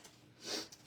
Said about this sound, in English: Sorry for the sniffles, y'all.